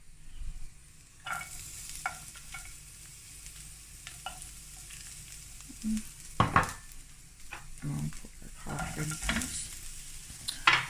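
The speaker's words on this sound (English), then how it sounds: "Don't want it to be too sizzling" Food sizzles gently in a heated pot while a utensil stirs it, with scattered scraping clicks and louder bursts of sizzle toward the end, close and fairly quiet.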